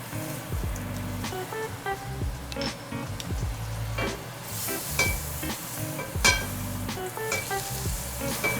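Butter sizzles in a smoking-hot pan ready for searing a ribeye steak, a close, loud crackling fry with sharp pops and spatters scattered through the steady hiss.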